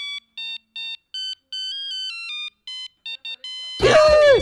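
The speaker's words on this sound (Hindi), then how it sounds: "इस वक्त किसका फोन है?" In a Hindi TV comedy serial, a bright electronic phone ringtone plays a repeating tonal melody in short bursts, then a sudden burst of noisy sound cuts in at the end.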